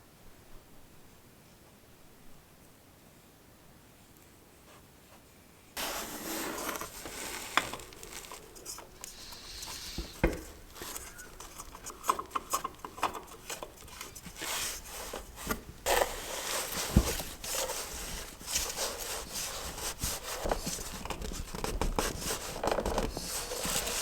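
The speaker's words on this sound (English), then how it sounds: "We'll go ahead and screw that on now." Oil filter being screwed by hand onto a Husqvarna lawnmower engine, with close, continuous rubbing and rasping friction noise after a quiet start, full of irregular scraping bursts.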